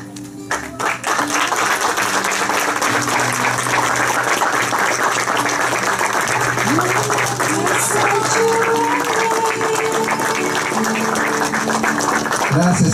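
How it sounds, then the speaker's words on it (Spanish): Loud, sustained applause fills a wedding ceremony, steady clapping from a crowd carrying on for the whole stretch with faint tonal sounds and voices mixed underneath. "Un fuerte aplauso. Muy fuerte"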